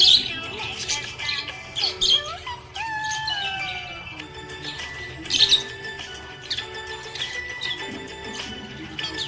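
Budgie parrot chirping in bursts of high tweets and squawks over a steady backing song, fairly close and lively.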